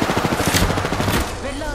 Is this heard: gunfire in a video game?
yes